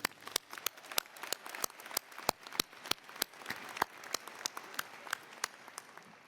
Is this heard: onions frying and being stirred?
no